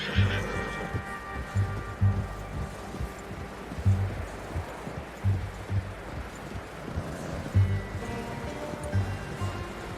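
In Red Dead Redemption II, a horse snorts and whinnies near the start, then hooves clop in an uneven rhythm over a soft rainy or outdoor ambience, moderately close.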